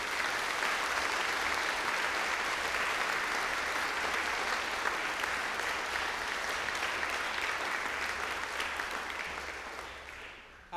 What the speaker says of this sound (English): Let us give the parents a round of applause